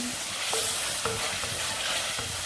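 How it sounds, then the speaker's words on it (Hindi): Chicken pieces frying in a pan with spices for aloo chicken bhujia, a steady close sizzle broken by periodic scraping strokes of a spatula, with no talking. "चिकन को थोड़ा सा भून लेंगे।"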